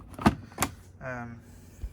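Detergent drawer of a Chiq 8kg washing machine being handled, with two sharp close clunks followed by a short sliding rattle and a faint knock, with no speech.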